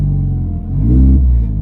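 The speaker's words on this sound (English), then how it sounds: "sounds like I have an exhaust leak" A car engine revs up and settles back, with a deep exhaust rumble and a rough, leaky-sounding rasp from a suspected exhaust leak, loud and close with no talking.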